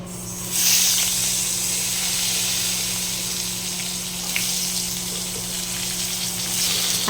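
A pot of long bean and potato curry set on the stove hisses with a steady, moderate sizzle, a constant broadband fry with a low hum beneath and no voices.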